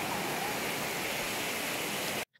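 Broad, steady rush of a large river swollen after rain in Cabangan, loud and close with no talk, cutting off abruptly near the end.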